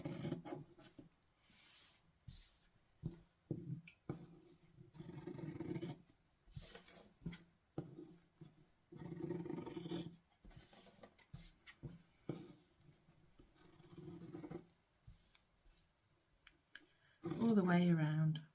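Sharp scissors snip and rasp through fabric in a series of short cuts with pauses between, close up, and a voice speaks briefly at the end.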